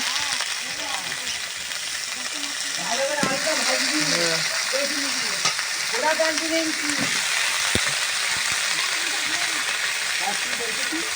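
Potatoes sizzle and fry with spinach in a pan while a voice talks over the steady crackle, with occasional stirring scrapes.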